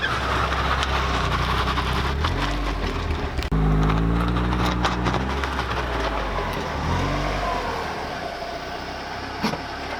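A car with a welded differential creeping through a parking maneuver, its engine running steadily with a low rumbling drone and one abrupt jolt partway through, the tone then wavering as it rolls.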